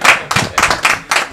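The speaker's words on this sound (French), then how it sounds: "Applaudissements" Hand clapping at a press conference, four distinct short bursts of applause from a small group, close and fairly loud, each lasting a fraction of a second with brief gaps between.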